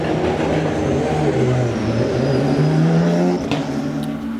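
A Nissan Nismo GT-R GT3 race car engine, a loud close drone with steady harmonics that rises and dips slightly in pitch, with a brief disturbance near the end, heard alone without talk.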